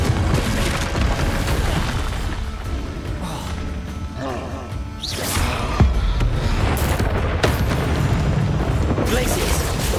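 Blasts of the Confringo explosive spell in Hogwarts Legacy: dense booms and rumbling impacts within loud game effects and mechanical creaks, with a sharp hit near the middle; a voice speaks briefly.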